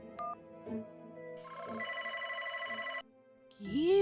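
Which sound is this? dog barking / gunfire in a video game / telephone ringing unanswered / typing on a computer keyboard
telephone ringing unanswered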